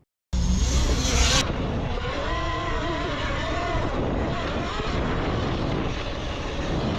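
Talaria Sting R MX4 electric dirt bike ridden through sand, a steady loud whir and rushing noise throughout with a brief sharper burst at the start.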